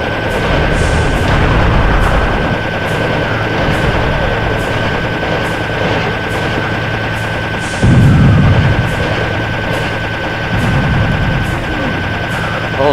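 A cannon fires in the shooter game Serious Sam amid chaotic combat, with deep booming blasts over a dense, steady wall of rapid gunfire and game noise.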